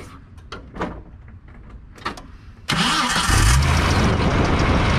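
A Jeep YJ Wrangler engine cranks and catches after a few scattered clicks and knocks, then settles into a loud, rough, steady idle close by.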